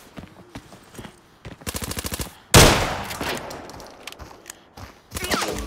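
Gunfire in the video game Arena Breakout: a few single shots, then a rapid automatic burst, a loud heavy blast with a long decaying tail, and further shots near the end.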